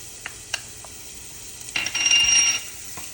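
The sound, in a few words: shallots sizzling as they stir fry in hot oil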